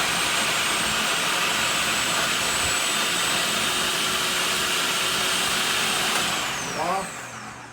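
A food processor whirs steadily as it blends salt with extra dry vermouth, a loud, continuous motor roar that holds for several seconds before winding down with a brief clatter at the end.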